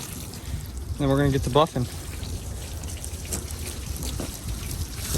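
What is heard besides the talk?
water rinsing off a wet-sanded truck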